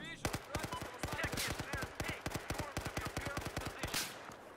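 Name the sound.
gunfire in Battlefield 4 video game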